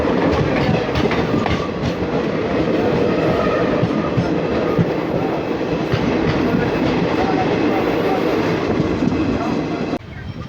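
The Hate Bazare Express, running from Saharsa toward Sealdah, rumbles past close by with a dense, loud roar and rhythmic wheel clatter, sustained for about ten seconds before dropping off sharply.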